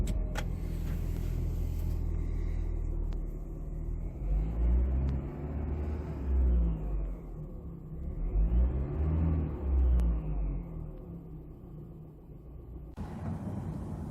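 A 2017 Volvo V60 T4 SE Lux Nav estate with a 2.0-litre petrol engine driving on the road: a steady low rumble with swells of engine note as it accelerates, heard from inside the cabin.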